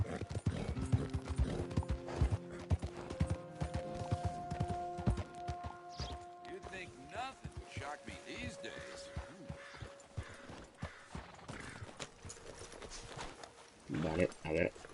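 Hooves clip-clop in an irregular rhythm in a video game, with clicking mechanical effects and brief tonal game sounds, while a person talks over much of it.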